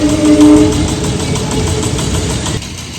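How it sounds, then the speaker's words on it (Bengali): A train rumbles past nearby with a steady low engine drone, a brief horn-like tone at the start, fading slightly toward the end. "এই ট্রেন বেরিয়ে যাচ্ছে"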